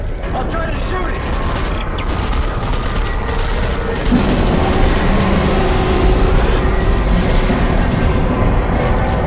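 Gunfire in Dead Space 3, set in a snowy survival level, fired at a yellow fuse: dense, loud bursts of shots and booms run throughout over a constant rumbling game mix, with talk mixed in.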